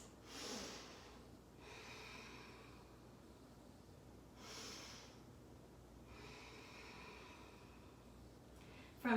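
Slow, deep breaths held in a yoga forward fold, each long airy inhale or exhale rising and fading in a steady rhythm, close and quiet with no talking.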